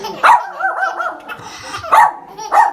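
A dog barks several times in sharp bursts, with whiny yips and growly vocalizing between the louder barks, close by.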